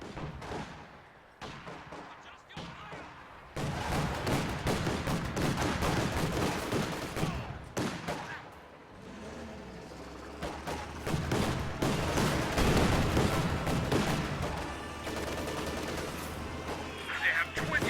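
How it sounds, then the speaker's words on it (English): Small-arms gunfire crackles through a battle in a military strategy video game, bursts of rapid shots rising and falling over a dense, noisy soundscape with voiced radio-style callouts mixed in. "Contact! Small arms fire!"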